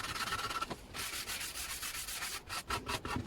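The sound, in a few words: sanding wooden sign edges with a nail file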